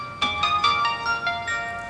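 An electronic phone ringtone plays a quick series of bright, chiming tonal notes, fairly loud and close, with no talking.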